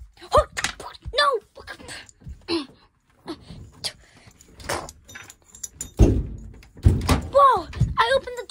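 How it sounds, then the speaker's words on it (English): A door opens in a cartoonish video game with a few clunks and thuds, mixed in among animated, excitable voices talking throughout. "Whoa, I opened the door, yes."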